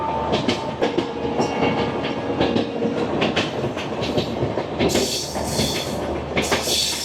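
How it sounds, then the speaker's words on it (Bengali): A Garib Rath Express runs nonstop along a single-line railway, carriages rumbling with rhythmic clickety-clack of wheels over rail joints and brief bursts of louder rattling, heard from inside the train. "আমাদের এই ট্রেন অতিক্রম করবে 71 কিলোমিটারের ননস্টপ ডিস্টেন্স"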